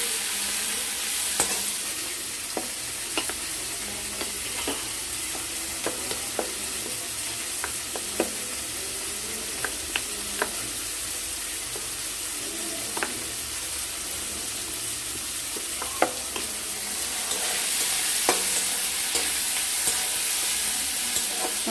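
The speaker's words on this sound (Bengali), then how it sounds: "টমেটো দিয়ে লবণ দিয়ে একটু নাড়াচাড়া করে দেবো" Tomatoes with salt and water cook in a pan, a continuous bright sizzle and hiss running throughout with scattered small ticks and scrapes of stirring, close up and with no one speaking.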